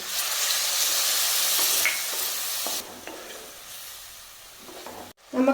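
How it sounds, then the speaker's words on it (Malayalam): Tamarind water poured into fish mappas masala sizzling in a pan: a loud, close, steady frying hiss that eases after a few seconds to a softer sizzle, ending with a brief clatter. "അത് പുളിവെള്ളവും കൂടെ ചേർത്ത് കൊടുക്കാം"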